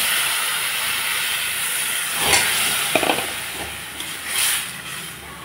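Water poured into a hot pan of lightly fried mung dal sets off a loud, broad sizzling hiss that swells at the start and keeps steaming, with a few small clinks.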